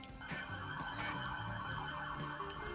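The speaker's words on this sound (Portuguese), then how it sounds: "Pausa para a ambulância." An ambulance siren wails faintly in the distance, a steady wavering tone beneath low street rumble, with no talking.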